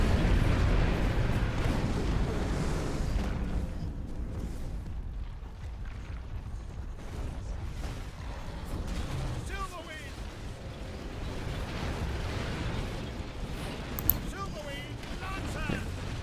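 Repeated heavy blasts from World Breaker guns in the strategy game Battleforge (Skylords Reborn), booming under a steady bed of battle noise while someone talks over much of it.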